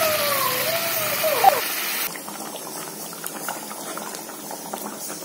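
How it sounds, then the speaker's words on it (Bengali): Hot water poured into a pot of simmering meat curry with potatoes, a loud close gushing pour for about two seconds, then quieter bubbling and sizzling as it cooks. "এবার যেটা ইউজ করবো সেটা হচ্ছে গরম জল।"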